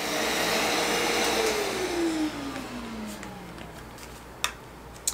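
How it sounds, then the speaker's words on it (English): A Yiktol dog grooming kit's vacuum suction runs with a loud steady whir, then winds down with a falling pitch and stops, followed by a couple of faint clicks. "If I turn it on, I feel the suction there. I can suck up the hair."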